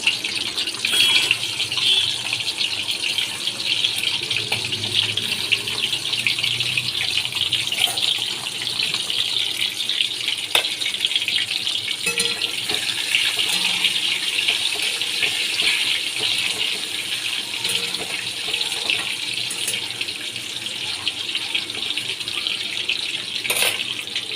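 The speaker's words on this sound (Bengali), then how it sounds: "তেলের মধ্যে আমি ডিমগুলো দিয়ে দিচ্ছি ডিমগুলোকে লাল করে ভেজে নেবো" Eggs frying in soybean oil in a pan, a steady crackling sizzle running throughout, close and fairly loud, with no talk over it.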